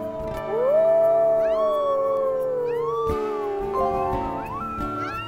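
Wolves in a multiplayer video game let out a long sliding howl that fades, then shorter overlapping howls follow, loud and near over a quiet musical backdrop.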